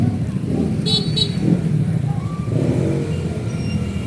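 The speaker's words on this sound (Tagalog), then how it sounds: "nagkaka-traffic na dahil sa malaking truck pumasok dito" Busy road traffic held up by a large truck, with car horns tooting briefly and engines rumbling steadily in the background of a continuous loud street din.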